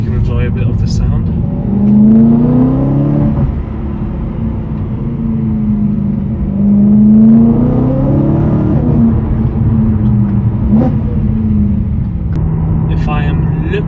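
A BMW M3 engine drones from inside the car on a winding mountain road, rising and falling through gears with a steady rumbling tone. Talk from the cabin runs over it.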